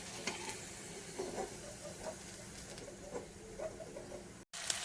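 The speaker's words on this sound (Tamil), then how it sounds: "இப்படியே ஒவ்வொன்றா வந்து போட்டு ஃப்ரை பண்ணி எடுத்துடலாம்" Food pieces frying in hot oil, one added at a time, give a soft, steady sizzle with faint crackles and light patter, quiet and close with no talking.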